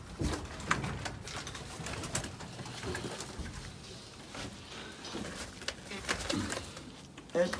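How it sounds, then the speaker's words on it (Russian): Young pigeons coo softly in low, repeated murmurs, faint and close, with scattered rustling and flutters among them. "Это все молодые голуби"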